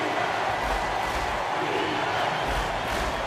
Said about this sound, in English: And this crowd ecstatic.